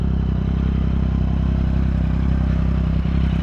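A Yamaha XSR900 motorcycle engine runs close by in a loud, steady, throbbing drone with a rough mechanical clatter, holding an even pace with no talking over it.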